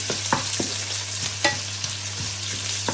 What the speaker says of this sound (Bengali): প্রথমে গোটা মশলাগুলো একটু ভেজে নিচ্ছি, তারপরে পেঁয়াজ কুচি দিয়ে দিলাম।